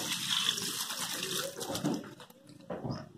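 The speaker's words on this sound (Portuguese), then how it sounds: "Aí eu vou enxaguar e vou botar na água sanitária." Tap water runs steadily into a sink while vegetables are rinsed at home. The hiss is fairly faint and continuous, and small splashes and clatter come through near the end.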